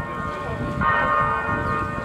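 Church bells chime with a sustained, ringing tone at six in the evening during a Christmas celebration, heard fairly close over a low background rumble.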